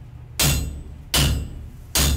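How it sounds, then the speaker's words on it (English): Three heavy hammer blows on wrought iron at an anvil during blacksmith forging, each a sharp, loud, ringing strike spaced under a second apart, close by with no talk. "hammer straight down and work out towards the tip"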